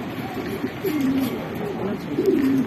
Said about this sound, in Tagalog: Bali, yung dalawang ibon natin, yung Black at si Flavio, nandun pa sa poste